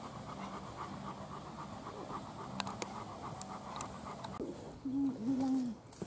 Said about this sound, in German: Nein, Hund weg.